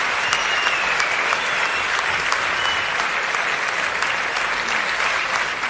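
Loud, sustained applause from an audience at a Tamil tree-planting event, dense clapping held steadily from start to finish.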